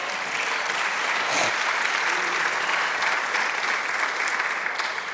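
A church congregation applauds the Lord during a sermon, a steady wash of clapping that holds evenly for the whole span without breaks or voices.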